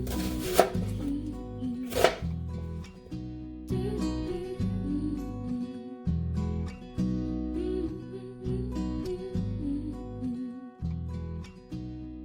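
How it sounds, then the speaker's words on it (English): An onion being roughly cut with a knife, steady thudding chops against a board repeating through most of the stretch, close and fairly loud, with a couple of sharper louder strikes near the start. "Roughly cut up your onion."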